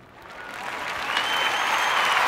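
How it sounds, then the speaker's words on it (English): An audience breaks into applause that swells from a quiet start to a full, sustained clapping from many hands filling the room. "So, round of applause for that."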